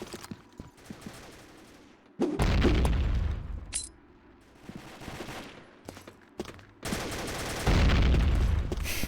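Rapid bursts of gunfire and booming shots from a shooter game, loud and close, with quieter stretches of clicks and movement between volleys.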